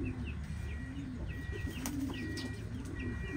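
Pigeons kept at a backyard bathing spot, with soft cooing and brief wing flaps over a steady background hum, close and moderately loud with no talking.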